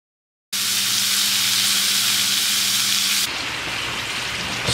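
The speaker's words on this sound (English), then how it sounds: "Steak's done, almost." Steak sizzling steadily in a hot pan at home, a loud, continuous frying hiss with no talk, the tone thinning slightly toward the end.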